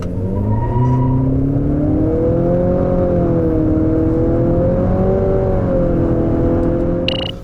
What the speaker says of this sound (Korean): 그렇다면 여기서 2L 터보 모델의 가속 성능에 대해서도 한번 알아볼까요?